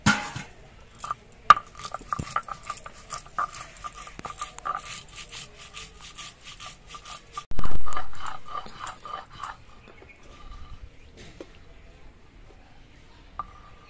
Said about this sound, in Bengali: এই নুন আর লঙ্কা দিয়ে সর্ষে আর পোস্তটা বেটে নিচ্ছি